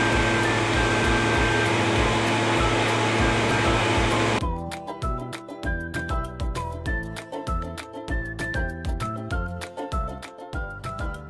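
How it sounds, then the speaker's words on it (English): A grain cleaning machine runs with a dense, steady mechanical roar for several seconds, then shifts to a rattling, rhythmic clatter of rapid repeated knocks, loud and close with no voices. "This is grain cleaning by cleaning machine."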